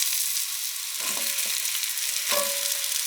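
Sweet potato cubes drop into a hot frying pan, bursting into steady sizzling with two sharp surges as pieces hit the oil, the frying hiss continuing throughout.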